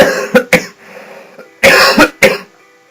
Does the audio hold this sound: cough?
yes